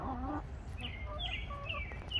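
Backyard chickens in a coop cluck and chirp softly in short scattered calls, heard over a steady low background rumble.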